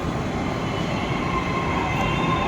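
A train arriving at a station rumbles close by with a steady, continuous drone, a faint high whine riding above it, and no voices.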